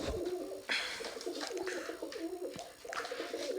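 A pigeon coos repeatedly near a nesting hen that has started laying eggs, soft rounded calls rising and falling in a steady series with no talking.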